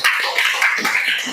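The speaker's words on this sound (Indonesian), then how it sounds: "Tepuk tangan untuk kita" Junior high students in a physical education class clap together, a short burst of light, fairly close hand claps with a loose rhythm.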